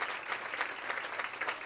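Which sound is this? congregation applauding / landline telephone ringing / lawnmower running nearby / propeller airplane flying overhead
congregation applauding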